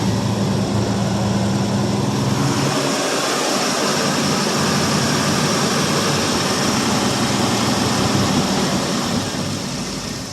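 A loud, continuous engine drone from a 1967 Ford LTD's 390 FE V8 on a cold start, low rumbling throb, running rough and unevenly close by for the whole stretch.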